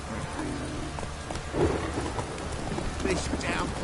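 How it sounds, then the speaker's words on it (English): A heavy rain downpour in the video game The Witcher 3 hisses as a dense, continuous wash, with faint low rumbles mixed into the steady roar. "This downpour's a bastard"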